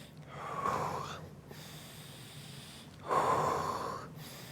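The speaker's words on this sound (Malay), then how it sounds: "Tarik nafas guna hidung, hembus guna mulut." Two slow breaths in a breathing exercise, each drawn in through the nose and let out through the mouth, the airy rush rising and fading, close and clear with a quiet pause between them.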